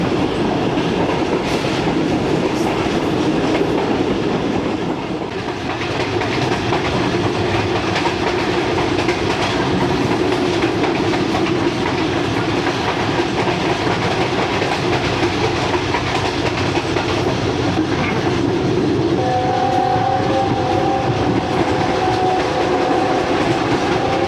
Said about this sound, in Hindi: दोस्तों, काना काछा अबैंडन्ड रेलवे स्टेशन से 90-92 किलोमीटर फ़ी घंटा की रफ्तार से गुज़र हो रहा है।